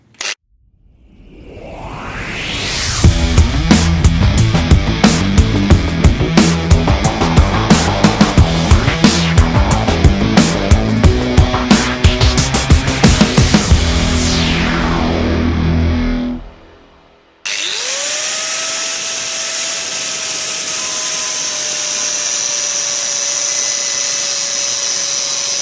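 A power tool cuts through a steel bolt and dresses its threads: a loud, harsh grinding whine with shifting pitch runs for about 17 seconds, then breaks off into a steadier, quieter hum.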